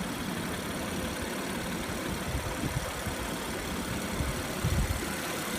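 An Audi A7 Prestige S Line or Mercedes-Benz CLS400 engine idles steadily, a low even rumble with faint irregular thumps, close and continuous without any voices.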